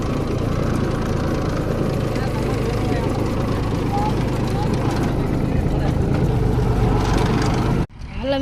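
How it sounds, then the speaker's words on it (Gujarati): A tractor engine drones loud and steady close by while building a field embankment, running unbroken for several seconds before cutting off abruptly near the end. "પાળી બાંધવા ટ્રેક્ટર આવેલું છે."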